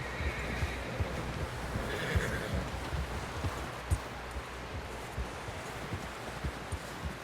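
Horse in the video game Red Dead Redemption 2, heard faintly amid a steady rustling, rain-like ambience with soft hoof clops scattered throughout, and no talking.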